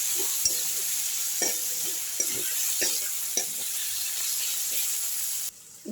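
Ginger garlic paste sizzles in a hot pan with a soft, continuous hiss while a spoon scrapes and stirs in irregular knocks, close by and without talk, before the sound cuts out abruptly near the end.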